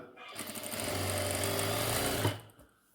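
Sewing machine stitching the hem of a saree blouse, a steady close whirring run of about two seconds that starts and stops cleanly, with no talk over it.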